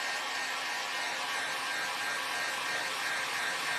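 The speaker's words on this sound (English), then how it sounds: "I'm using my loud dryer." A loud hair dryer blowing to dry fresh paint on a candlestick birdhouse: a steady, unbroken roaring whoosh, close and constant throughout with no talk.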